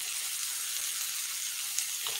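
Okra crackles in hot tempering oil, a steady close hiss of frying with no voices over it.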